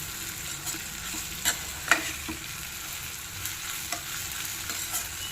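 Onions frying on a slow flame while being stirred, a steady close sizzle broken by occasional soft scrapes and light spoon taps, no voices.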